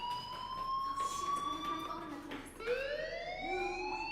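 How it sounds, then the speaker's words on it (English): Fire alarm in the Life is Strange game sounds as a steady high electronic tone that drops briefly then resumes with a sliding, siren-like pitch, continuous and fairly loud under faint background ambience. "do you hear that fire alarm? That means you should be outside."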